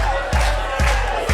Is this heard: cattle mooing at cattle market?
no